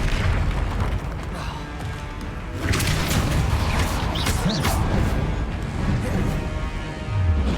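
Booming spell blasts and crashing impacts from the Confringo fire spell during combat in Hogwarts Legacy, heavy explosive bursts layered over a continuous dense battle din, with a few sharp cracks rising above the rumble.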